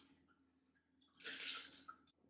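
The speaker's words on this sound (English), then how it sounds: "Pour into our chilled glass here." Faint room quiet gives way to a short liquid splash of a cocktail being poured into a chilled glass, lasting under a second, then trailing off.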